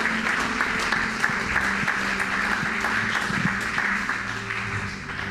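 Church congregation breaking into steady, sustained applause during a sermon, a dense wash of clapping with faint voices mixed in, holding evenly for several seconds.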